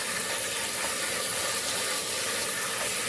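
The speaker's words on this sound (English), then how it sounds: "So we see that it's all rinsed off." Chickpeas are rinsed under running water in a kitchen sink, making a loud, continuous, even rush of water with no pauses.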